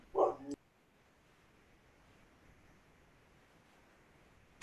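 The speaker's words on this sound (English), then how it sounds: "my dog is going crazy" A single short burst of dog barking opens loud and close, followed by a near-silent stretch with only faint room noise and a brief click at the very end.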